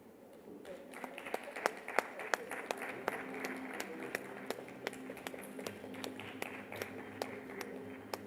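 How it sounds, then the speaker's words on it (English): Scattered, fairly sparse clapping from an audience at a retirement insights summit, with distinct individual claps standing out over a quiet room murmur, faint overall. "A round of applause, ladies and gentlemen, for Mr. Sumit Madan and Ms. Soumya Mohanty"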